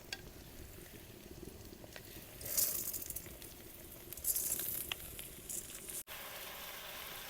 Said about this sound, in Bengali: হলুদ, কাঁচা লঙ্কা, আদা বাটা, জিরা বাটা সব কিছু মিশিয়ে কিছুটা সময় ভাজে নিব।